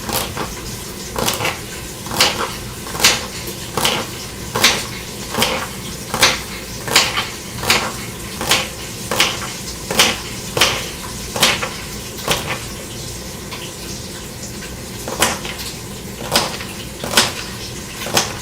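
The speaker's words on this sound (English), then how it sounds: "So I'm just chopping up some celery." Sharp, regular knife chops through celery on a cutting board, about twenty crisp close strikes in a steady rhythm with a brief pause midway, no talk.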